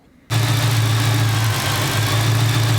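A car engine kicks on and settles into a loud, steady idle close by, warming up in the open just after a coolant crossover delete install, with a constant low rumble and no talk.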